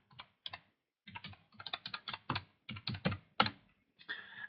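A password being typed on a computer keyboard: bursts of quick, close, fairly soft key clicks in an uneven rhythm with short pauses, no speech.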